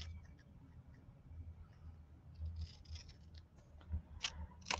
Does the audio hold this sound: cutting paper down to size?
yes